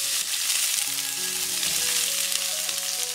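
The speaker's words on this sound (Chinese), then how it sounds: "锅内再放一点油，放入葱段和姜末炒香" Scallions and ginger stir-frying in hot oil in a wok while making home-style tofu, giving a continuous close, loud sizzle with no talking and faint steady tones underneath.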